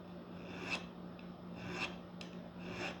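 Soft rasping strokes of a file scraping the metal fret edges of a guitar, repeating about once a second in slow, even passes, fairly quiet and close.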